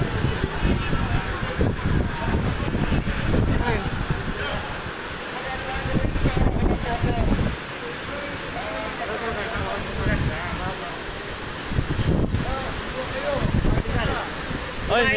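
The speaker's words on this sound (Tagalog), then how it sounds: "Ang hangin sobra." Strong gusty wind beside the Marikina River during a typhoon, roaring and buffeting the microphone in repeated bursts, with someone talking intermittently under the noise.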